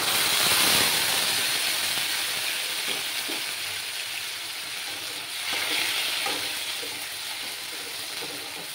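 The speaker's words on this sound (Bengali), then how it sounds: "যতক্ষণ না কাঁচা গন্ধটা যাচ্ছে ততক্ষণ আমাকে ফ্রাই করে যেতে হবে" Tomato and ginger paste frying in a pan gives off a loud, steady hiss and sizzle that swells and eases slightly, close up with no talking.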